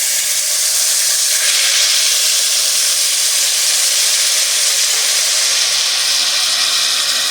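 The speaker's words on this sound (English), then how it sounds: "Now we need a 1/4 cup of Worcestershire sauce" Worcestershire sauce poured into a hot pan after searing a roast gives a loud, close, continuous hiss of sizzling and steam that stays strong and even throughout.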